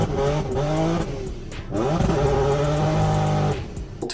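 Nissan 350Z with a quieter single-exit exhaust driving close by, engine note rising and falling through several rev changes with a steady tonal drone.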